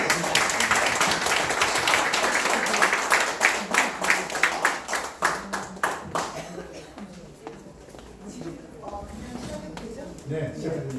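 Audience applause welcomes a speaker at a campaign briefing event, steady dense clapping for several seconds that thins into scattered individual claps and fades, with faint murmuring and talk afterward.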